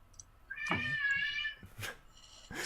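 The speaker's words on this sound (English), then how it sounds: "It's just a shrieking cat off in the distance." A cat lets out a drawn-out, wavering shriek, then two shorter yowls, thin and somewhat distant against a quiet background.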